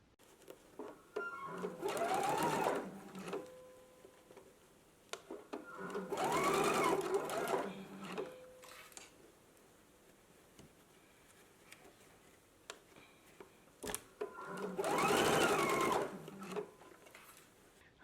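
A home sewing machine stitching a sleeve hem with a 5/8-inch seam allowance runs in three whirring bursts of a few seconds each, with quiet handling and pauses between them.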